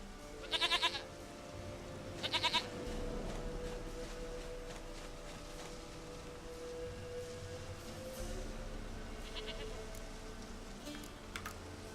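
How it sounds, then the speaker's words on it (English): A goat bleats in the video game Witcher 3, with two short, clear bleats early on and fainter ones near the end over a low, steady ambient hum. "Goat of mine, dearest, sweetest goat."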